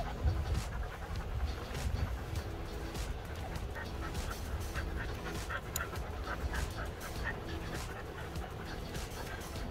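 A husky puppy pants rapidly and steadily close by, quick rhythmic breaths with small whimpers and yips scattered through, no talk over it.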